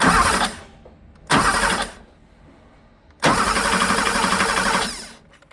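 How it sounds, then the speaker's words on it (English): Porsche 911SC engine cranked by a rebuilt starter motor in three loud bursts, two short and one longer, with quiet gaps between, each burst a dense churning grind and the last sustained nearly two seconds. "I'm going to put my tool in there to activate the starter motor."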